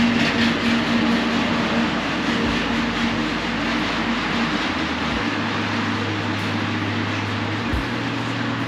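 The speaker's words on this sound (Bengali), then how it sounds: "ট্রাম চলে যাচ্ছে।" A tram rolls past on a street in Kraków's old town after rain, a continuous loud rumble of wheels and motor with low droning tones that drop in pitch as it moves away.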